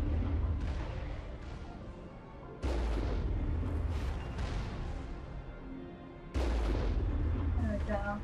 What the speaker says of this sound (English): That's why I'm shooting them from the distance.